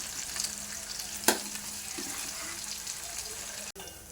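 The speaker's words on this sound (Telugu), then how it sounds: "కొంచెం మగ్గిన తర్వాత కరివేపాకు వేసుకొని కొంచెం మగ్గించుకోవాలి" Chopped onions and curry leaves sizzling and frying in a pan, a steady sizzle with a sharp clatter of stirring near the middle and a brief knock toward the end.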